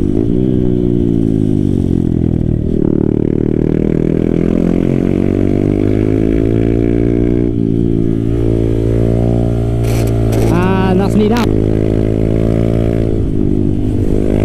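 A dirt bike engine runs loud and close while riding laps, holding a steady drone with rising and falling revs. A brief clattering burst comes near the end.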